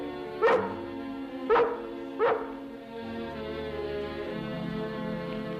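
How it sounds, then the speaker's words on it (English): A collie out of doors gives three sharp barks in close succession, loud and close, then falls quiet under a steady background hum. "I brought your dog back, Ranger."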